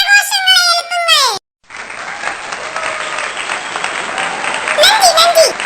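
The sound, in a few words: audience applause for a game winner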